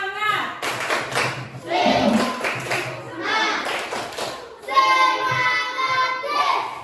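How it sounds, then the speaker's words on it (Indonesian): Classroom children clap a rhythmic spirit cheer for Jason, patterned bursts of hand claps and taps alternating with short pauses, mixed with young voices chanting and an adult speaking. "Tepuk semangat"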